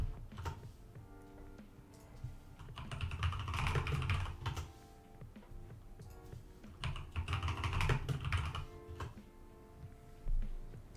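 Typing on a computer keyboard, steady clusters of close key clicks with brief pauses between bursts, alone without talk.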